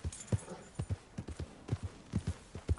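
Hooves of a horse in Red Dead Redemption 2 clip-clop in a steady, even walking rhythm, quiet and close, with nothing else over them.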